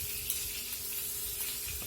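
Finely diced onion sizzling and hissing steadily in a hot pan, a continuous close frying crackle with a small pop at the end.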